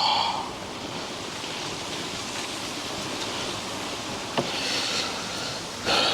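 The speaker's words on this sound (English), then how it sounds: "Sorry about the wind too, if you can hear it." Wind buffets a microphone outdoors beside a Ram 3500 with a Norweld canopy, a steady broadband rush with a few brief gusts and knocks and no talking.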